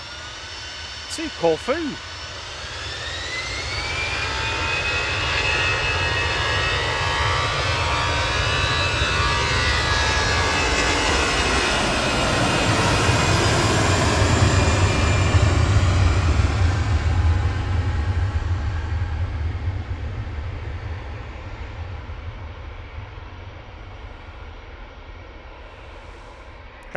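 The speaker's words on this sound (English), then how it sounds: "EasyJet departing now" An EasyJet jet airliner departs Manchester Airport, its engine roar swelling from a distant rumble to a loud, broad whine and rush that peaks mid-clip and slowly fades, with people talking briefly near the start.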